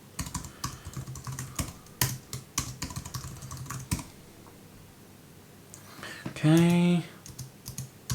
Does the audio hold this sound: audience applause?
no